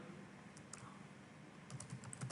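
Quiet, close typing on a computer keyboard, a short run of soft irregular key taps with a slightly busier burst toward the end.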